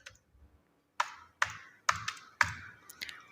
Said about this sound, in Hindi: यहाँ पे मैं टाइप करूँगी रिसिप्ट